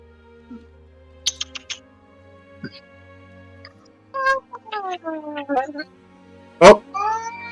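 A pet cat meows indoors several times in a row, with short chirpy calls followed by longer drawn-out meows and one loud sharp cry near the end, against a quiet room background.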